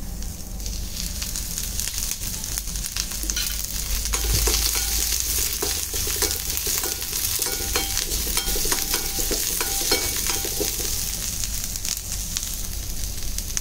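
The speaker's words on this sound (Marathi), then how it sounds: "थोडं तेल घालते, लालसर होईपर्यंत कांदा लसूण" Onion and garlic sizzle in hot oil for a masala, a dense continuous frying hiss with crackles and occasional stirring scrapes, close and fairly loud throughout, with no voices.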